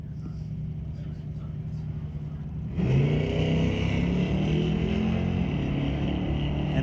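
A 2009 pearly white Cadillac sedan launches at a drag strip. A quiet idling rumble gives way to an abrupt, loud engine roar that holds strong, with rising harmonic tones as it pulls away.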